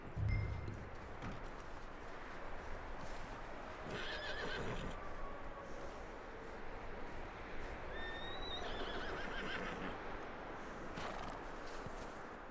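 Horses whinny and neigh in Red Dead Redemption 2, with nearby clip-clop hooves over a steady outdoor rustle and a few distinct neighs standing out.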